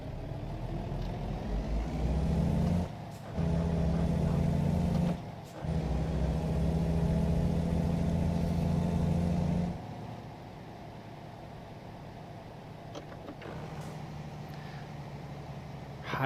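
A heavily loaded truck pulls away in low third gear, its engine droning loud and steady at high revs, broken by two brief gaps, then dropping to a quieter idle-like rumble partway through.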